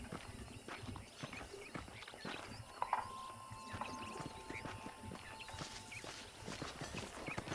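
Horse hooves clip-clop at a steady walking pace in Red Dead Redemption, quiet and fairly close, with a faint tonal game sound partway through.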